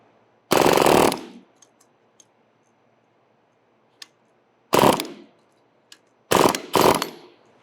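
A power gun tool breaking cable protector banding on downhole tubing fires in loud, rough bursts, one long burst, then a shorter one, then two quick ones close together, with small clicks and taps between.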